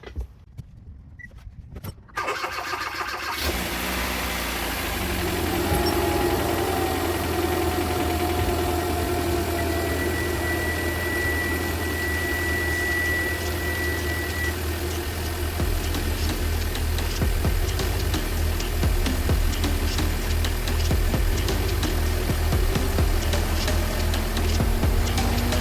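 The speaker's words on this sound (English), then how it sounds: "I'm gonna start it so you guys can hear it now." A replacement turbo engine in a Hyundai Veloster cranks briefly and fires up, then settles into a steady idle. The idle has a low throbbing hum and light rattling, heard close and continuous with no one speaking.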